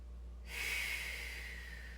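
A long, steady breath exhaled during a yoga session, starting abruptly as a soft airy rush and tapering off gradually, close and alone.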